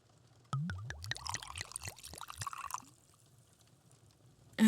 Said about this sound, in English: make yourself at home while I pour some wine